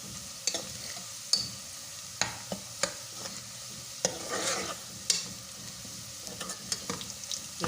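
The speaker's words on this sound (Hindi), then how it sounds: "इसके अंदर आहिस्ता आहिस्ता चमची आप चलाते रहें ताकि प्याज हमारे जले ना।" Onions frying in a pan while a spoon stirs them slowly, giving a steady low sizzle broken by light scraping taps of the spoon against the metal, close up with no voices.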